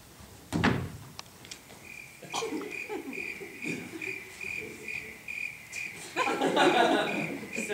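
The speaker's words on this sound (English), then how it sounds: "I love the crickets." Crickets chirp in a steady, fairly faint high trill that runs through most of the stretch, joined by a few clicks and soft knocks, with no talking over it.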